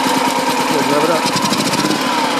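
A BMW Isetta 300 single-cylinder engine runs loud and close with a buzzy, chattering drone, revving slightly throughout the short burst.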